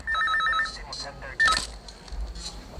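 A telephone rings with a repeating electronic warble in short bursts, followed by a second brief ring, set in a dramatic scene from a dubbed South Indian action film with background noise and faint voices.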